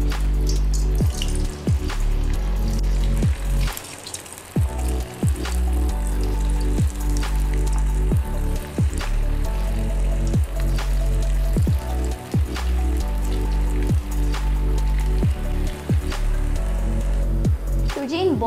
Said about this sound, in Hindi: तो चलिए करते हैं डीप फ्राई।